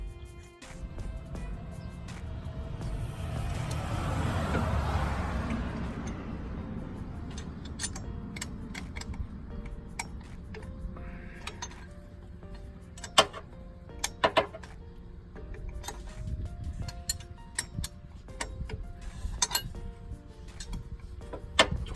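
A wrench ratchets and clicks in sharp irregular ticks while turning a nut during installation of an Adams 1350 driveshaft on a Jeep JL Rubicon, with a broad rushing noise swelling early on.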